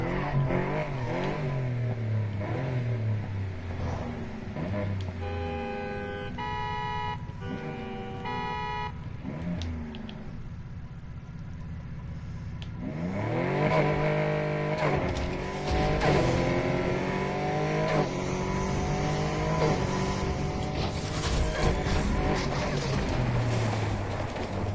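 Car engine revving and accelerating in the racing game Need for Speed Heat, on a drag-tire build with nitrous, loud and continuous, with rising gear-shift sweeps and some tire squeal, and brief talk mixed in.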